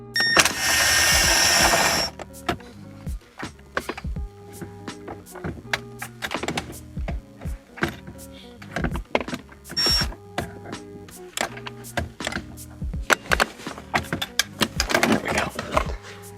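Work under the dashboard of a 2008-2012 Nissan Armada: a bolt is loosened with a short burst of ratcheting, followed by many scattered clicks, clunks and knocks of tools and panel handling, close and uneven.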